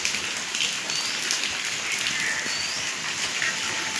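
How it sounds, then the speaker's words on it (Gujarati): Light drizzle falls over a village house with a tin roof, a soft, steady patter that runs without pause, with faint bird chirps in the distance and no speech. "ધીરે ધીરે વરસાદ ચાલુ થયોતા હે"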